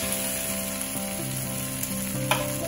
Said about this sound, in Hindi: ऐसे उछालते हुए अच्छे से सॉटे कर ले